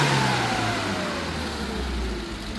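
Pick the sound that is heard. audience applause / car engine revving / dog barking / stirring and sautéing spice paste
car engine revving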